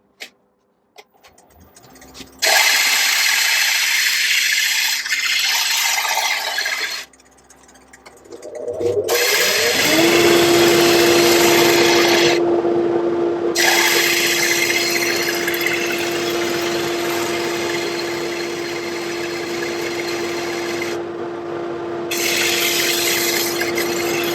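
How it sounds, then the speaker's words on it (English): Sandpaper disc fixed to a faceplate on a spinning lathe, with segments for a passive sound horn pressed against it: a loud, steady rasping grind over a constant motor hum, broken by several short pauses. "It's fixed on a faceplate on the lathe, and I spin that round and hold these against it."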